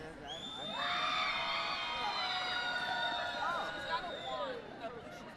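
A roller skating showdown crowd yells and cheers steadily throughout, with high piercing shouts and whistles riding over the loud, continuous din.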